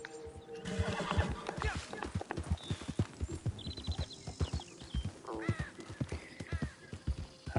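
A horse in the Western video game Red Dead whinnies loudly and repeatedly while its hooves clip-clop steadily across mountain terrain, with crow caws scattered in the background.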